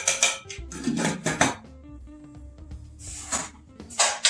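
Utensils clink and scrape against a pan while crawfish etouffee ingredients are mixed, a series of bright metallic knocks and scrapes in uneven bursts, close and moderately loud, with no talk.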